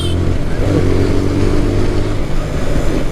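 A motorcycle engine treated with octane booster revs close by in a rough, throaty mid-pitched drone, throttle rising and falling slightly, with a voice speaking over it.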